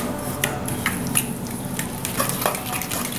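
A brown sugar glaze for an eye of round roast is stirred in a pan, producing a soft steady bubbling and sizzle with light clinks and scrapes of a utensil against the pan, close up.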